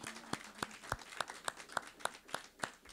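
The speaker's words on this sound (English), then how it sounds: "I'd like you guys to give Michael a round of applause." Faint, evenly spaced claps from a small group of people in a quiet press room at a pregame media session, greeting Michael, the team's honorary coach for the day.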